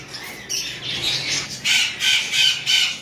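A pair of lovebirds, a Chick Max male and a Green Fischer female, squawk in repeated sharp bursts at close range, with faint bird chatter between calls and no talking.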